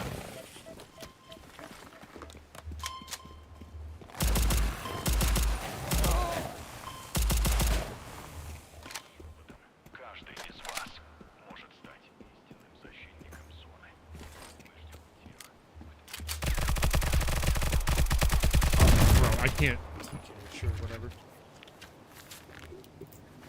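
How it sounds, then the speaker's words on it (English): Gunfire in the Stalcraft: X shooter game: bursts of rapid shots near 4–8 s and a longer, louder sustained volley around 16–20 s, with quieter stretches of movement and faint talk between. "They're just shooting from inside the tree."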